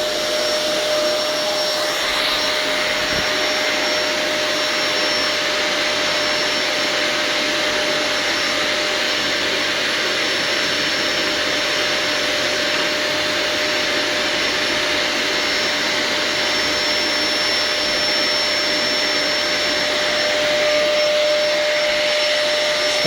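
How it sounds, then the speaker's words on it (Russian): A household vacuum cleaner runs loudly and steadily from start to finish, a constant whirring drone with a high motor whine and no voices over it. "Вставай, вставай, пылесос."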